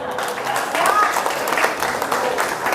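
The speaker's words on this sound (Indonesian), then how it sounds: "Aplaus dulu ya." Audience clapping and applause at an Indonesian business seminar, a steady broadband wash of many hands lasting the whole moment, with crowd murmur and voices mixed in underneath.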